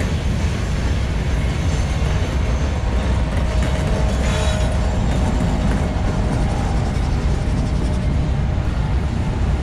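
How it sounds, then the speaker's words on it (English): A long freight train with a mid-train helper locomotive rumbles steadily past on Horseshoe Curve, with continuous wheel and rail noise, loud and unbroken throughout with no voices. "Look how this train wraps all the way around the valley."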